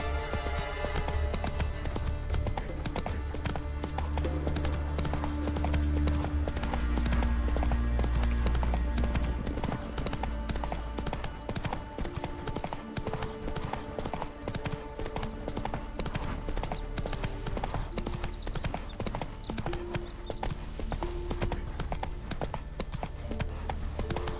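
Roach, the horse in The Witcher 3, trots along in steady, rhythmic hoofbeats heard continuously over background game music.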